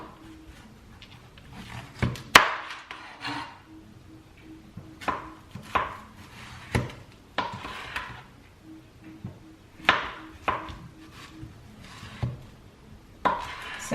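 Knife slicing zucchini thinly by hand on a wooden board, giving sharp irregular chops against the wood with short pauses between them. The cuts sound close and clear, with no talk.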